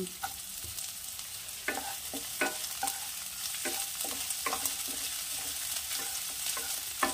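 Chopped capsicum frying in a pan, a soft continuous sizzle broken by repeated spatula scrapes and clicks from stirring.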